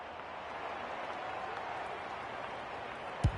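A stadium crowd in the AFL 26 football video game, during a Grand Final match, keeps up a steady, distant roar, with a single dull thump near the end.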